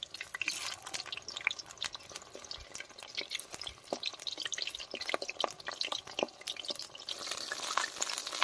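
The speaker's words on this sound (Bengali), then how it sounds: "এবার চপগুলো তেলের মধ্যে ছেড়ে দেব" Shapla (water lily stem) chops coated in gram flour batter fry in hot oil, giving faint, quiet sizzling with scattered crackles and pops and no talk.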